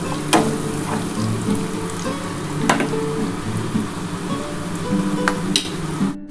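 Marinated mutton goes into a pan of browned fried onions, giving a steady close sizzle broken by a few sharp scraping and clattering stirs.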